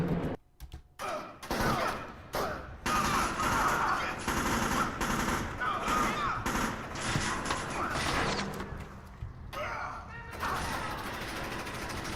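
Gunfire in the stealth shooter Splinter Cell Chaos Theory: bursts of loud automatic fire and shots come in dense volleys with brief gaps, and a voice speaks faintly beneath.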